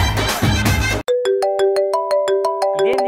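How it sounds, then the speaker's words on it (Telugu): Phone ringing for an incoming call; after a second of music, a loud melodic ringtone of rapid, evenly spaced electronic notes plays nearby with no voices over it. "ఇదేంది శోభనం సార్ ఫోన్ చేస్తున్నాడు?"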